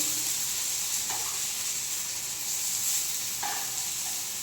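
Eggplant slices frying in a pan of oil for an Andhra-style eggplant fry, giving a steady close sizzle with a couple of soft stirring clicks and no talk.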